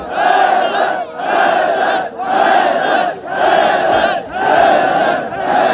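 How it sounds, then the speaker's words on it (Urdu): A large crowd at a 3 Shaban Jashan celebration in Ancholi, Karachi chants "Haidar" together in loud, rhythmic unison, five roughly one-second shouts separated by brief pauses. "مل کے بولو حیدر حیدر"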